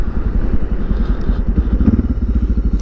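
Suzuki DR650 motorcycle with an FMF exhaust and an opened air box, thumping at idle in a quick, even single-cylinder rhythm, close and loud.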